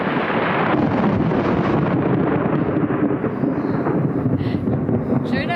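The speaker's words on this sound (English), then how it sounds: "thunder. Sure enough." Thunder rumbles outdoors in Rincon, Puerto Rico, two weeks after Hurricane Fiona, as a deep, loud, sustained roll mixed with wind buffeting the microphone, lasting the whole stretch.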